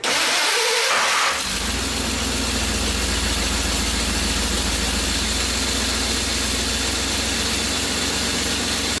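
A Ford Bronco engine fitted with Holley Sniper EFI cranks briefly, catches and settles into a loud, steady, close idle that holds for the rest of the stretch.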